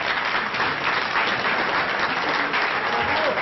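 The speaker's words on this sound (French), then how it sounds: "c'est très gentil de vous d'applaudir" An audience applauds continuously at a French classic car event, a steady dense clatter of many hands clapping with no talking.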